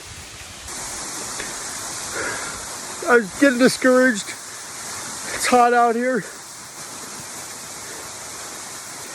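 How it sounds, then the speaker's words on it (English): A spring spilling down into a waterfall and on into a river in Nebraska, a steady hissing rush of water heard up close throughout, while someone speaks briefly over it midway. "Here's one of the springs coming out down into a waterfall into the river."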